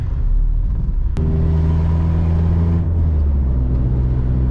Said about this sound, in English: now there's like a crazy rattling like below me